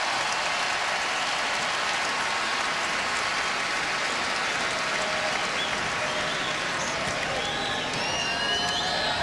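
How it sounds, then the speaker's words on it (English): Dense, steady applause from a packed college basketball arena crowd at a Baylor Bears versus Kansas Jayhawks game, a broad continuous roar of clapping with scattered cheers, loud and sustained throughout. "And a nice round of applause."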